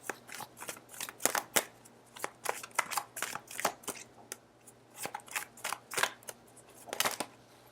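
Tarot cards are shuffled and drawn by hand, a run of crisp riffling snaps and flicks in irregular clusters, close and fairly quiet with no talking.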